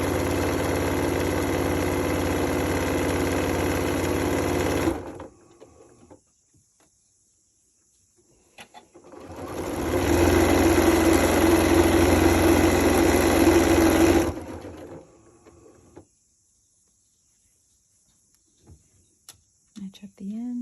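A sewing machine sews a quilt strip-set in two separate runs of a few seconds each, with a quiet gap of light handling between them.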